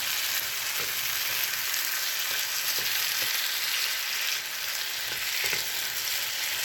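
Butter for a tomato and egg breakfast dish sizzles in a pan with a steady, bright hiss, broken by a few faint clicks of a small spoon.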